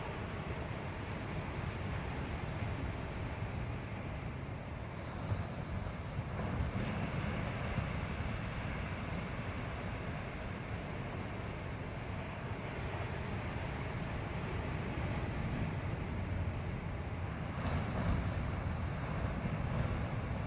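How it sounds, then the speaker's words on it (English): Ocean waves at a beach, heard as a continuous broad roaring wash with steady wind-like rumble and gentle swells rising around the middle and end, no speech. "You can hear the waves in the background."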